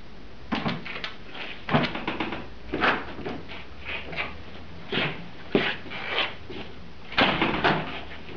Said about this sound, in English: You open the master door, unhook the finger bolts and open your door.